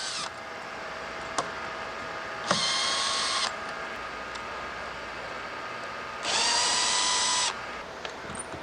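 Power drill backing out screws from the hinges of a boat livewell lid, two loud whirring bursts of about a second each, separated by quieter clicks and handling noise, with no talking.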